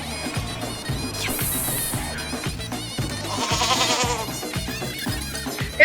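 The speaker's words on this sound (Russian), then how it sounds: "надо сначала подоить козу" A goat bleats during milking, giving repeated wavering cries with flies buzzing close by. A steady, rhythmic pulsing runs underneath the whole time.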